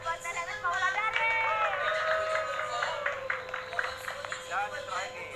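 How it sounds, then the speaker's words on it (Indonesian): An audience breaks into applause at a talk-show style event, a dense burst of clapping mixed with cheering and crowd chatter, with a voice speaking over it. "Tepuk tangan buat Nenek Paula Dare."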